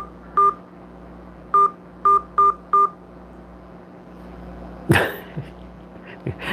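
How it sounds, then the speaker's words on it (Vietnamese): Five short electronic keypad tones from a calling-card phone line ring out in an uneven sequence, followed by a close cough or sneeze-like burst and faint handling noise. "Xin bấm vào số điện thoại."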